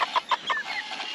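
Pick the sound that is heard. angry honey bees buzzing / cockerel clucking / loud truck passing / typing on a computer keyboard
cockerel clucking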